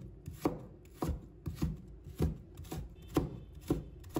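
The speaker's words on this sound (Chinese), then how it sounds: "再切成细丝，不要切太细，我们要吃得到红萝卜的口感。" A knife chops a carrot into thin shreds on a cutting board, sending out a steady run of crisp, close taps roughly every half second, alone with no talk.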